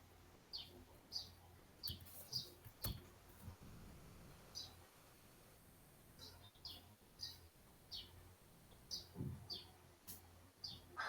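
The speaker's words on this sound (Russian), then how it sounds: "Это у кого птицы?" Small birds chirp faintly outside a window during an online meeting, with repeated short high tweets scattered through low room noise and occasional distant voices.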